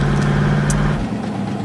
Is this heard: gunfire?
no